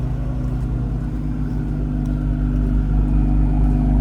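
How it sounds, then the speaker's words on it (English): A 2020 Ford Explorer ST engine idles close by, its 3-inch Thermal R&D exhaust giving a deep, steady, throbbing rumble that swells slightly toward the end. "You can hear there's exhaust here."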